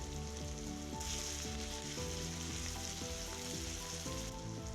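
Diced onion and cumin seeds sizzling in butter in a pan, a dense, even crackling fry that stays constant throughout, with soft background music and no voices.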